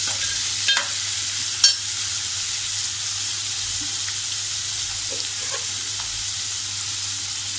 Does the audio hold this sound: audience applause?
no